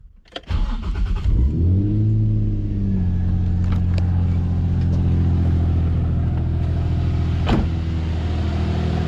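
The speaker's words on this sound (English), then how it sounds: "we can turn the car on like that. And I get to turn the car on." A Nissan 350Z engine cranks briefly after an aluminum radiator upgrade, catches and starts, revving up before settling into a steady idle close by.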